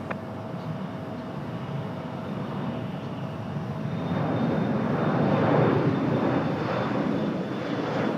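At Raleigh Durham International Airport, airplane engines roar in a broad, steady drone that swells louder midway as an aircraft passes nearby, with a faint high whine on top.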